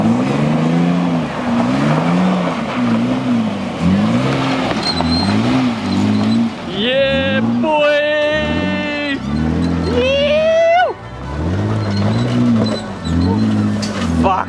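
A 4WD vehicle revs its engine while climbing a bank in high country, making loud, rhythmic rising and falling revs, with people talking over it partway through.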